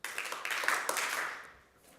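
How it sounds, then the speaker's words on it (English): A section of a conference audience clapping their hands, a short burst of many overlapping claps from across the room that quickly tapers off to quiet. "So if I ask this section over here to just clap their hands a few"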